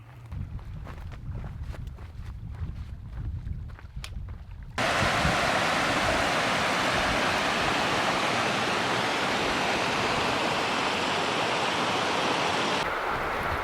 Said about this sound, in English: we've got some waterfalls coming down there